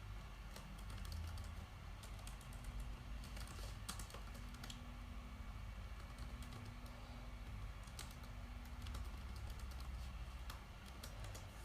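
Someone types a command on a computer keyboard in a quiet room. The keys click faintly and irregularly with short pauses, and a low background hum sits underneath.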